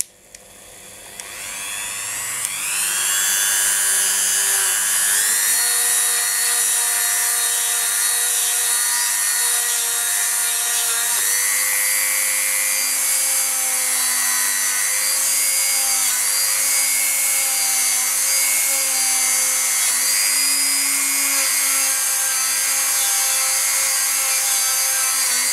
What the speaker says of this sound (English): Just bring over my buffing wheel